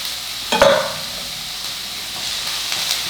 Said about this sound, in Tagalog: At igisa na natin kasama ng bawang.